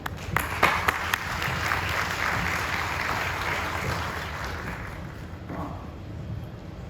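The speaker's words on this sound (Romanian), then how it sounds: "Haideți să-i dăm un rând de aplauze" An audience applauds steadily, a dense wash of clapping hands that starts with a few sharp claps and gradually thins toward the end.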